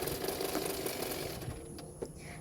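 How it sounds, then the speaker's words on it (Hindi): A sewing machine runs continuously, stitching a seam on a double katori blouse with a half-inch margin, a steady close mechanical whir throughout with no talking. "टेकन देने के बाद हाफ इंच मार्जिन रखते हुए और एक सिलाई कर देना है।"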